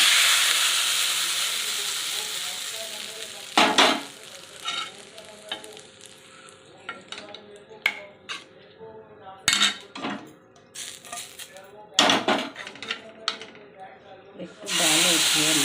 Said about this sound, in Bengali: এটা আমি এখন তড়কা দিয়ে দেবো।